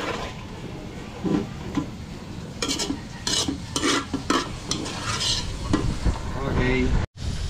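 Pork barbecue sizzling over a strong, open flame on an outdoor grill in windy weather, a continuous loud frying hiss with scraping and stirring bursts and brief interruptions.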